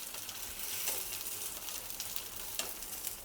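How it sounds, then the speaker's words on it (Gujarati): Poha tikki made without potato shallow frying in a few spoons of oil, a steady close sizzle with a few brief scrapes or stirring clicks, no talking. "ખાલી ઉપરથી ગોલ્ડન કલર આવે ને ત્યાં સુધી જ આપણે આ ટીકીને સેલો ફ્રાય કરવાની છે"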